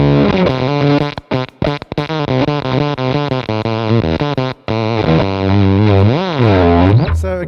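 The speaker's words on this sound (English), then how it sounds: "you've got a whole different range of fuzz tones to explore there" An electric guitar on its humbucker pickup runs through a fuzz pedal, giving a loud, thick, distorted tone with sustained notes and brief gaps, then swelling into a wavering, near-oscillating howl at the end.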